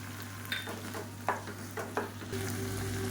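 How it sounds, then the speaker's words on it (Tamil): Chopped tomatoes sauté in an oiled pan for a chutney served with idli and dosa, giving a steady sizzle with a few brief stirring scrapes and clinks, close and moderately loud, with no talking. "இப்போ தக்காளி நல்லா வதங்கிருச்சு"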